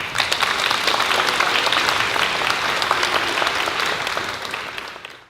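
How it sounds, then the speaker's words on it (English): An indoor crowd at a 90th birthday party giving the elderly guests a round of applause, loud, dense clapping that holds steady for several seconds and then trails off at the end. "we wanted to honor you guys today with a round of applause"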